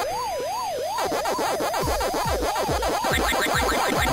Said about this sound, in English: And the siren's picking up.